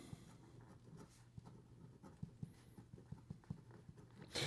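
An OMAS Ogiva fountain pen with a gold nib, used reverse-side on paper, makes a series of faint, close scratchy strokes in a loose rhythm, ending with a brief louder rustle.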